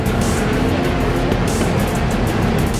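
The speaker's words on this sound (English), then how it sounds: "Both take off the line in great form" Rallycross race cars, including a Subaru team car, launch off the start line in a semifinal. A dense, steady roar of engines and tires fills the scene at a moderate distance, with no clear voices.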